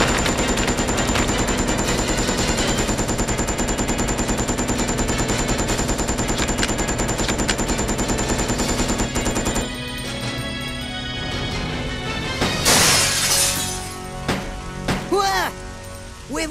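Rapid automatic gunfire from the Resident Evil Code Veronica X video game, loud and continuous for several seconds, then thinning into scattered shots and impacts as a voice speaks.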